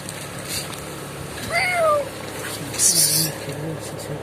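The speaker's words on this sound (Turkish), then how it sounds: "Aa kediler burada." Cats meow outdoors beside a church in Edremit, Kyrenia, Northern Cyprus, giving two or three drawn-out meows close by, with someone talking softly between them.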